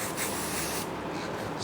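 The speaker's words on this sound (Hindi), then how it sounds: "बस तुरंत स्प्रे मार देंगे।" Hair spray hisses onto freshly styled hair in one continuous close burst, with a short pause and a second puff at the end.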